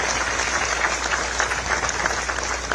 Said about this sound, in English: And I ask all of us to applaud him.